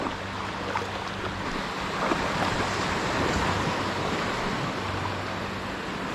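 Ocean waves surge at high tide near a fishing spot, a loud, constant roar of surf mixed with wind buffeting the microphone, with no talking.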